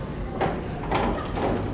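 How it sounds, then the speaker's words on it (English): The light doors of a Montgomery hydraulic freight elevator at a convention center slide shut in a few quick scraping, rattling pushes close by, with no talk. "Always be sure to close the doors whenever you're finished"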